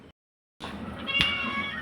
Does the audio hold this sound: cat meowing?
yes